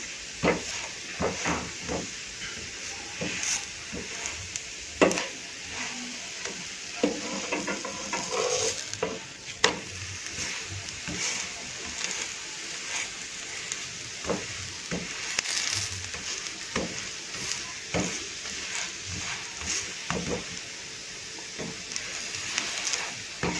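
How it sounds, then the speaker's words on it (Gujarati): Bajra methi thepla, a Gujarati millet flatbread with spinach, sizzles on a hot pan in a steady, soft frying hiss, broken by light scraping and tapping as it is pressed down on both sides. "બંને સાઈડથી આ રીતે પ્રેસ કરી અને આપણે બાજરીના થેપલા રેડી કરી દઈશું"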